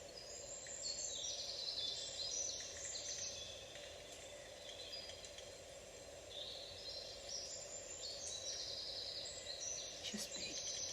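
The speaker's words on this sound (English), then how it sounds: "Listening to the birds" Birds sing outdoors, their faint, scattered chirps and tweets coming from a distance over a steady low hum in an otherwise still, quiet setting.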